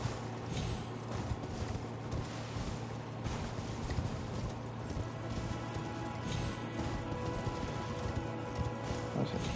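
Hooves of the spirit steed Torrent galloping in the video game Elden Ring, a steady, fairly soft clip-clop rhythm over busy game ambience and music, with no talking.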